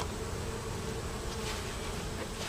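Honey bees buzz steadily from a hive going through winter in a nine-frame box, a dense continuous drone filling the whole stretch with no talk over it.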